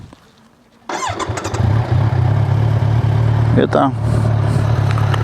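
A Kawasaki Z1000SX motorcycle cranks and fires up after a quiet moment, then settles into a loud, steady idle up close while someone speaks briefly over it.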